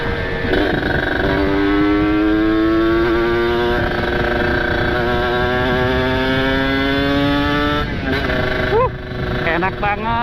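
A motorcycle with a ported engine and aftermarket exhaust revs close by on a provincial road, its pitch climbing and holding in long rising sweeps before dropping near the end.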